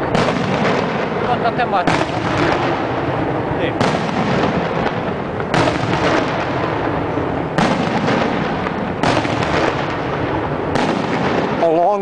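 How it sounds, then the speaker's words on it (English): Festival fireworks in San Giovanni Rotondo, near the Church of St. Pio, go off as loud booming bursts roughly every two seconds, each one ringing out over the town, with a brief voice speaking at one point. "Along with a festival every other day, the fireworks go off."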